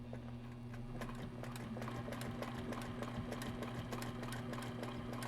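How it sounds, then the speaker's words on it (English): A sewing machine stitches fabric in a steady, rapid mechanical rhythm with a constant motor hum underneath, running continuously at close range with no talking. "And then I'm going to stitch back to my center."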